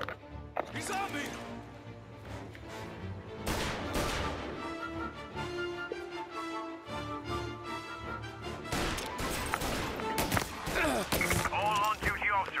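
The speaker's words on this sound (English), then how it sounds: "All on-duty officers, gunshots being reported" Gunfire rings out in the Mafia video game, with loud sharp bursts and crashes scattered through a busy scene over music and game noise, while voices talk at points.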